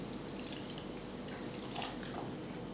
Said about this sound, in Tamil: தண்ணியை ஊற்றணும்